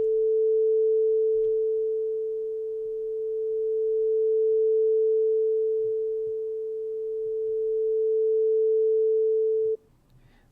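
A steady sine tone generated in Python, amplitude-modulated so its loudness swells and dips slowly without fading out, sustained alone for about ten seconds before cutting off.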